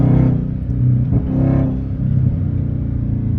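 A Dodge 392 Scat Pack with a swapped-in Hellcat engine accelerates in third gear, giving a loud, close in-cabin engine roar with rising and falling revs and a faint whine layered over the rumble.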